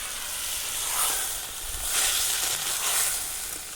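Channa fish curry with tomato frying in a pan over a village cook fire, a steady soft sizzle and hiss that swells and eases in slow waves, with no voices.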